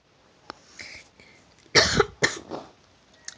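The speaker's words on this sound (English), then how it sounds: "I didn't mean to cough in your faces." A sick person coughs twice in quick succession, sharp and close, with a few faint clicks and breaths around the coughs in an otherwise quiet room.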